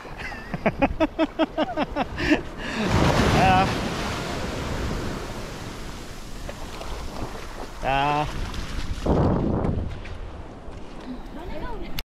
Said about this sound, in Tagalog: Natatakot naman kapag ka nahampas ang alon.